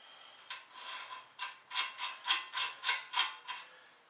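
Ratchet loosening a nut on a Mazda CX-7 front wheel assembly, about a dozen quick rasping clicks in a steady rhythm, growing slightly louder and closer, with no voices.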